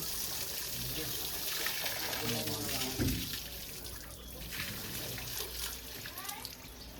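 Water splashes onto a wooden house door frame, making a steady trickling and dribbling close by while people talk over it.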